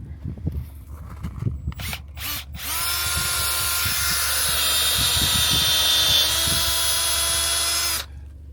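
A power drill boring tap holes into maple trees, starting with a few short bursts and then running steadily and loudly for about five seconds before cutting off, with a faint voice at the start.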